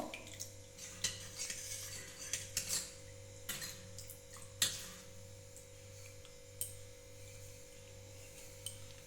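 Coriander leaves and chopped green chili stirred into water in a bowl for homemade golgappa, with faint clinks and taps of a spoon against the vessel over a steady low hum, no talking.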